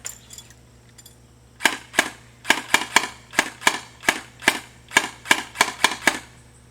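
An airsoft gun, an M50s, MG08-15 or TF11 loaded with a 50-round magazine, fires on semi-auto, about fifteen sharp close snaps in an uneven quick rhythm after a brief quiet handling pause.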